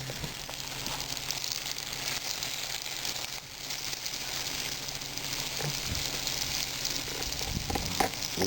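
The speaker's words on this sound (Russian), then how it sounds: "Вот, видите, жарится." Sunflower seeds frying in a pan over a campfire give a dense, continuous sizzle and crackle, fairly close and steady throughout with a brief dip midway.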